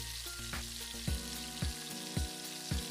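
Carrots cooking with tofu in an air fryer give a steady sizzle, broken by repeated short clattering knocks at roughly half-second intervals, close and moderately loud with no voices.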